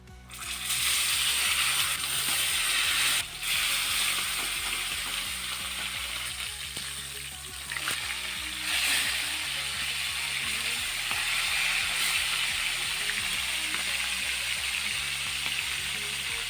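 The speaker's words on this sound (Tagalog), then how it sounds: "Iprito lang natin to." A freshly speared bluefin trevally, seasoned only with salt, fries in hot oil in a pan, giving a loud, steady sizzle and crackle that continues alone throughout.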